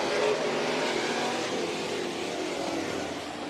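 Race cars at a figure 8 championship qualifying race roar past together, a loud sustained engine blare that slowly fades, with an announcer's voice underneath.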